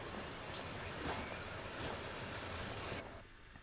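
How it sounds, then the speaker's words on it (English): A diesel train runs along the Marlow railway line, a steady rolling rumble with a high wheel squeal. It holds for about three seconds and then drops off fast. "The diesel train of today is a far cry from the old steam engines"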